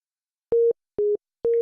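Three short, pure sine-wave synth tones set in a hip hop production, each about a fifth of a second long and evenly spaced with silence between them, clean and steady in pitch with no voice present.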